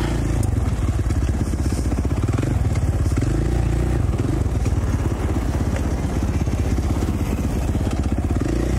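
A 2017 KTM 450 XC-F four-stroke dirt bike engine runs continuously at close range, a loud, unbroken rumble with a clattering edge sustained for the whole stretch.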